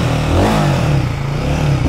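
A Royal Enfield Guerrilla 450 motorcycle engine revs up close, a loud, deep throbbing note rising briefly and settling back to a strong idle-like rumble.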